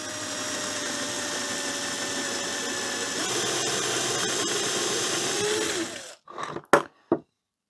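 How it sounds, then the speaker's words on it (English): A fine drill bit whines steadily through holes in timber with scrap wood underneath for about six seconds, then cuts out, followed by a few short knocks and handling sounds. "Let's run a fine drill bit now back down through these holes"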